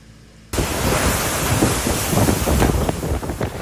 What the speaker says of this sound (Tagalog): Buong araw na malakas ang hangin at ulan sa Kasiguran Aurora dahil sa Bagyong Nika.